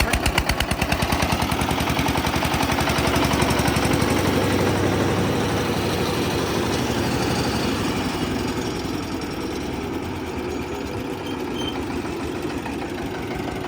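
A tractor-driven farm cutter runs continuously with a rapid, rattling knock, loud and close, steady throughout with no talk.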